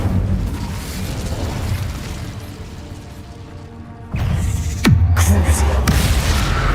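An Incendio fire spell bursts in Hogwarts Legacy: a loud, booming fiery blast lands over constant game noise, with a sharp hit and a rumbling tail near the middle.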